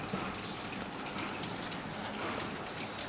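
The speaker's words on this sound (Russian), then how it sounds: "выкачиваем вакуумом тормозную жидкость из системы, из бачка и системы" A vacuum tool draws brake fluid out of the reservoir of a 2006 Hyundai Porter, producing a constant, even suction hiss with faint bubbling and no voices.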